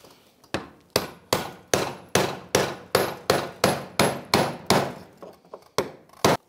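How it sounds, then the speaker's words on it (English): A brass punch is hammered to tap a fuel pump lock ring into place on a 2004-2012 Chevrolet Colorado, about fifteen sharp metallic clanks in a steady, close rhythm, each ringing briefly, with no talking. "use our brass punch again and go ahead and get that set into"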